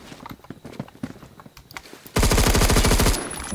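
A C7A2 rifle fires a loud, rapid full-auto burst in the Phantom Forces video game, bursting in abruptly after quieter scattered game noise and rattling steadily for about a second before cutting off.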